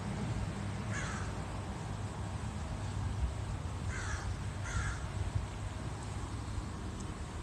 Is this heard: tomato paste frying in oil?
no